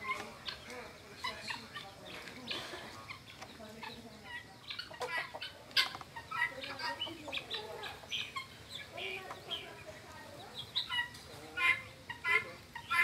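Chickens feeding on corn at a rural smallholding, a busy, continuous flock sound of clucks and soft calls with pecking activity, moderately close and fairly steady throughout.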